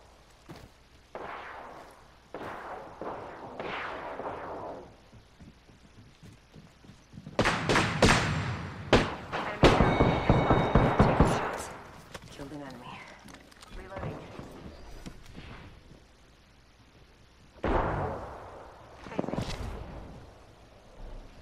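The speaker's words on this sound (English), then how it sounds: "Opening fire." Bursts of weapon fire in the video game Apex Legends, heavy volleys with thumping impacts arriving in clusters between quieter stretches, with a player talking over the action.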